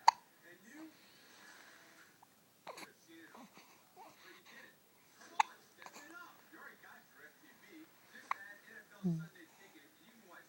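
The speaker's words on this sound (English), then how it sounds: "Trying to fight those hiccups." A person with hiccups, short sharp gulps scattered among soft breathy murmuring and quiet talk close to the microphone, one firmer hiccup standing out near the end.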